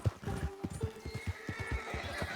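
A horse's hooves gallop in Red Dead Redemption 2 while Arthur Morgan rides in Chapter Two. The clip-clop is quick and rhythmic, close and steady, with an occasional snort or whinny from the horse.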